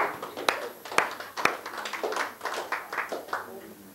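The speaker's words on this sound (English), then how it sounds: "somebody clap unto the Lord" Church congregation clapping along during a sermon, a few sharp individual claps followed by rhythmic group clapping, moderately distant, with voices mixed underneath.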